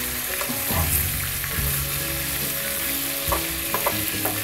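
Dried loitta fish (shutki) fries in a pan with a bright, even sizzle, broken by a few scrapes and knocks of a spatula stirring it; no talking.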